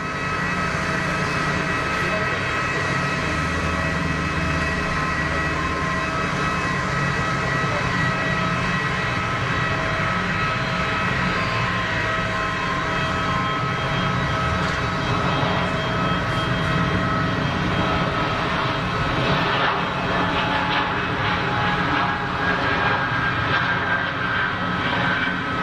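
A Swiss Airbus A220-300 taxis out for departure at Geneva Airport, its jet engines giving a steady, loud, continuous roar with a faint high whine throughout.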